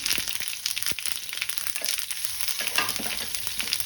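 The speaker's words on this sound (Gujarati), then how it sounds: "એક ચમચી આપણે તલ એડ કરી દઈશું અને ચટકી જેટલી હિંગ એડ કરી દઈશું" Sesame seeds and a pinch of asafoetida crackle and sizzle in hot oil, a busy, close spatter of rapid pops over a hissing bed, short and without speech.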